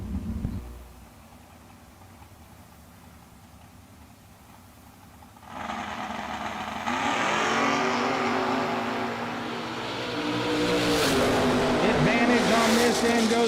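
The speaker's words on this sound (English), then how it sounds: "Next up, left side, Sambo Tyra, the Nova." Drag racing cars, a Nova and a Camaro, launch side by side down the strip. After a quiet stretch, engine roar rises abruptly and grows louder and fuller as they accelerate away, with an announcer's voice over the noise.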